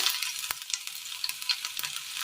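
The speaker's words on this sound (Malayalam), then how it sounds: "എണ്ണയിലേക്ക് ഒരല്പം കടുകിട്ട് കൊടുക്കാം." Mustard seeds hitting hot oil in a Kerala-style pan, crackling in sharp, scattered pops over a constant soft sizzle, close and fairly quiet.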